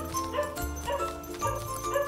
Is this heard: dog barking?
yes